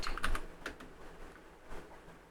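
Someone typing an AI prompt on a computer keyboard: a few quick clusters of soft, close key clicks, then scattered single taps in an otherwise quiet room.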